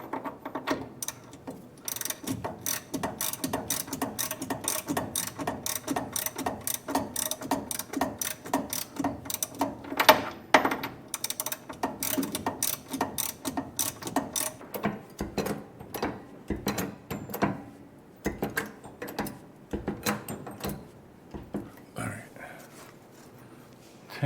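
A ratchet wrench clicks in rapid bursts while releasing spring tension during a front suspension rebuild on a 1957 Chevrolet Bel Air, close and crisp with brief pauses and occasional quiet talking in the background.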